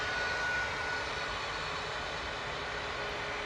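A Boeing 737 Max 8 airliner lining up at Manchester Airport, its engines giving a steady, distant broadband roar that holds even throughout, with no voices.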